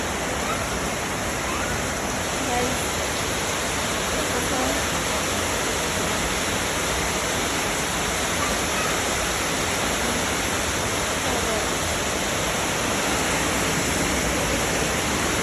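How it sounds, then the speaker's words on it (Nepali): Steady, dense roar of heavy rain pouring without pause, a constant broadband hiss that stays loud throughout. "एक्कासी कत्रो ठुलो पानी परेको"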